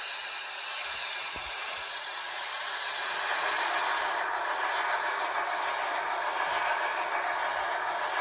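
Steady, loud hiss of steam blowdown from an MTH 484 J Class model locomotive, a continuous broadband rush lasting the whole stretch with no talk over it.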